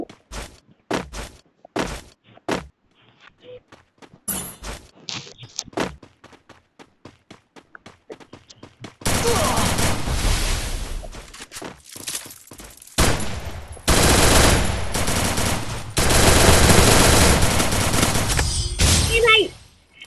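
Gunfire from a shooting video game comes first as scattered single shots, then turns into long, loud bursts of rapid automatic fire close up.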